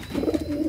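A low, throaty pigeon coo rolls along in soft repeated pulses for under a second, close by and fairly quiet.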